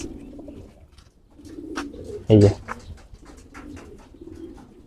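Racing pigeons of an army line breed coo in a loose, repeated rhythm close by, with one louder burst midway and someone talking briefly over them.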